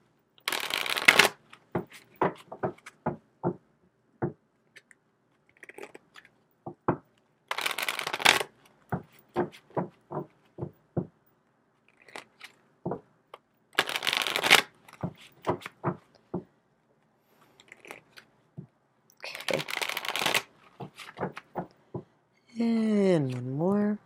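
Tarot and oracle cards are shuffled by hand in four separate bursts of rapid riffling, close and fairly loud, each followed by a run of quick card taps and flicks, with a short bird-like warble at the very end.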